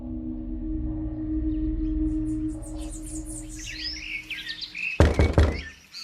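Sharp knocks on a door come as a quick burst near the end of a story sound effect, loud and close, after a steady low hum with birds chirping in the background.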